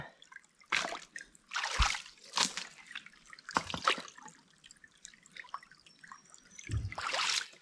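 Slow summer stream flow, quiet close water with separate drips and small splashes at an uneven rhythm over a faint trickle, no talk.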